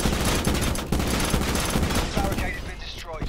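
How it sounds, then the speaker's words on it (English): Gunfire in Black Ops 4, a dense run of rapid shots and blasts, loud and close, tailing off near the end as players talk over the game. "nice shotgun shot"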